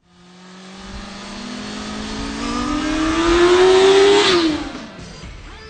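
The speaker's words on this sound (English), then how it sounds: "how can anyone go wrong with the sound of an inline 4 and especially something that's made by Honda?" A Honda CBR650 inline-four motorcycle revs its engine, the exhaust note climbing steadily in pitch and loudness over about four seconds to a sharp peak, then dropping quickly back toward idle; close and alone, with no talk.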